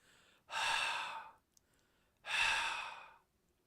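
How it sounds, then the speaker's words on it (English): Two long, breathy exhales of air with a short pause between them, close and clear, with no voice. "the sound of air, the sound of breath that a human can make"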